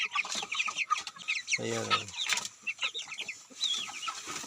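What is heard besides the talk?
chickens clucking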